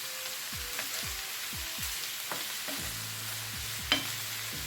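Beef strips and julienned vegetables with condiments cooking in a pan: a steady, soft sizzle with occasional light scrapes and clicks, close and unbroken, with no talk.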